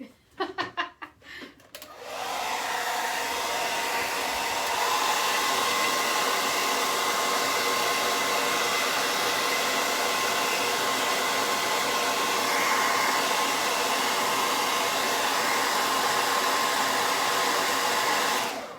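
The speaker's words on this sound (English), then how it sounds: "Where did the hair dryer go?" A hair dryer blows with a steady, loud whoosh and a thin whine, running continuously after a few short bumps and clicks at the start.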